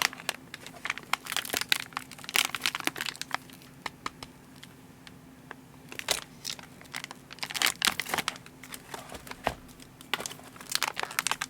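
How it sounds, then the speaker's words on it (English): Plastic packaging torn and crinkled off a spool of black PLA 3D-printer filament, close crackling, crumpling and ripping in irregular bursts and pauses, over a faint steady hum. "So unwrapping the filament"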